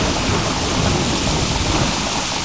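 Heavy rain pours down in a dense, steady roar with thunder rumbling beneath it, loud and continuous throughout with no voices.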